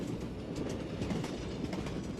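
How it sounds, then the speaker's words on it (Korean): A passenger train running through Norway gives a steady, close rumble of wheels on rails with faint rhythmic clattering throughout and no voices. "기차가 달리는 차창밖 풍경과 덜컹거리는 바퀴 소리만 들릴 뿐"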